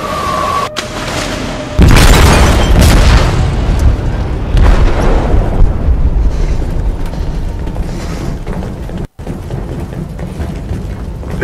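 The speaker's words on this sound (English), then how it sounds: "They detonated an explosive in the hold." An explosive detonates in a ship's hold in the game Detroit: Become Human: a loud, deep boom rolls out after a brief lead-in, then a long rumbling, crackling roar of debris and groaning metal that slowly settles.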